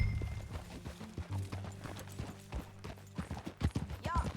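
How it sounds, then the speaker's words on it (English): Horse hooves clip-clop at a steady walking rhythm in Red Dead Redemption 2, close and clear, with a brief whinny near the end and faint background ambience. "That a new horse?"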